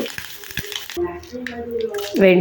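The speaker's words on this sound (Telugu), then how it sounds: "ఇప్పుడు పోపు అయితే పెట్టుకుందాము ఒక గిన్నె వేసుకొని అందులోకి పోపు కావాల్సిన ఆయిల్ అయితే పోసుకోవాలి" Spices and curry leaves hit hot oil in a pot as tempering for gongura chutney, a close crackling sizzle with spoon scrapes that swells louder near the end, while a voice talks over it.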